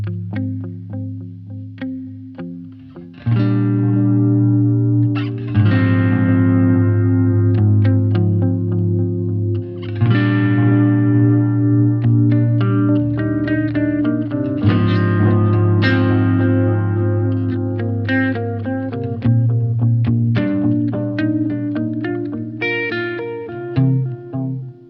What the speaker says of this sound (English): It's just a beautiful analog feeling delay